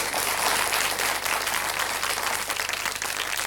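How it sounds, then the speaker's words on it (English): A studio audience on a radio talk show claps in steady, dense applause for two guests, Yasuhiko and Kate, sustained and fairly loud throughout without speech. "Yasuhiko and Kate, please give them a nice round of applause."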